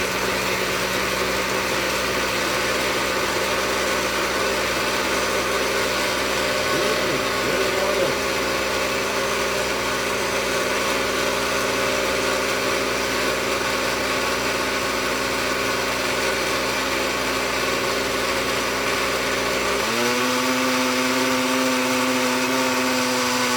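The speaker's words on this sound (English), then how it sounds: "we're going to put our lid on the blender, and you can blend it to your liking" A blender whirs steadily as drink ingredients are mixed for an Ice Castle cooler, a continuous motor drone that changes pitch near the end, with no talking.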